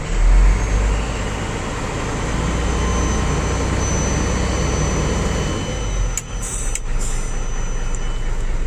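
A Hino FM 260 JD truck engine is revved, producing a loud, sustained roar with a rumbling low end that holds steady, then briefly dips before continuing.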